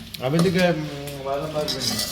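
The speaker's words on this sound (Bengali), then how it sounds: "আবিদ এখন বাদাম ভাজছে" Peanuts frying in a pan are stirred, with faint scraping and sizzling nearly buried beneath a person talking close by.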